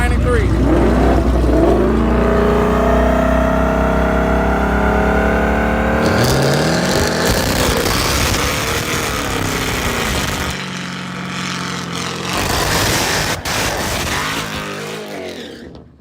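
Engine of a Chevrolet S10 race truck revving hard in a shop, a loud sustained roar with shifting harmonic pitch that drops and changes after several seconds, with voices talking over it.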